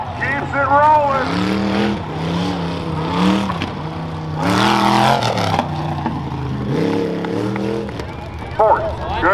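A 2005 Nissan Frontier four-wheel-drive race truck runs on a dirt fair track, its engine droning and rising and falling in pitch through several surges, heard under a race announcer's continuous commentary.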